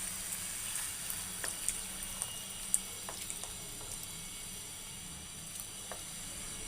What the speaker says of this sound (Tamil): இப்போ இதுக்கு தேவையான அளவு தண்ணி ஊற்றி நல்லா இந்த தக்காளி வேக வச்சிடுறேன்.